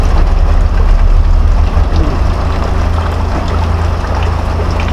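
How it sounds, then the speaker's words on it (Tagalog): Heavy rain pours down during a very wet spell, a dense, loud, continuous hiss and roar that stays steady throughout with no voices. "grabe yung tama yung ulan mga idol"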